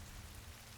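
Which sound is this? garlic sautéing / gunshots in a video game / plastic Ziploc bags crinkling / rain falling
rain falling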